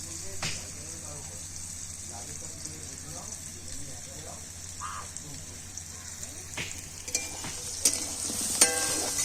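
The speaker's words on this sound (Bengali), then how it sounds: "এদিকে পেঁয়াজটা ভাজা হচ্ছে" Onion frying in a pan in a village kitchen: a steady, moderate sizzle with occasional clinks and scrapes toward the end, and faint voices in the background.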